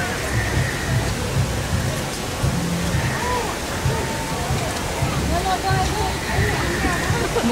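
Waterfall in the Pandora area of Disney World, a steady rushing wash of falling water at moderate distance, continuous and broad under crowd chatter and nearby voices of people talking.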